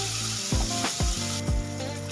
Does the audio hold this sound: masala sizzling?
yes